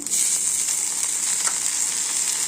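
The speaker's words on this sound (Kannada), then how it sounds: "ಇನ್ನೊಂದು ಸ್ವಲ್ಪ ತನಕ ಫ್ರೈ ಮಾಡ್ಕೊತೀನಿ" Tomatoes frying in hot oil in a pan for a junka curry, with a loud, continuous close sizzle and a faint stir partway through.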